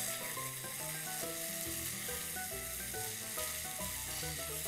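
Mushrooms sauté in a hot pan, a steady, close sizzle and crackle running continuously without pause.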